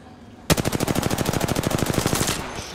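Rapid automatic gunfire in Apex Legends, a sharp opening crack followed by a steady burst of roughly two dozen evenly spaced shots lasting about two seconds, loud and close with no talking.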